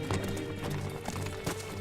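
Hooves of a horse being ridden clip-clop in an irregular rhythm beneath a low music bed, moderately close and without speech.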